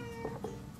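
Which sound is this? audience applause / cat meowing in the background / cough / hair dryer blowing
cat meowing in the background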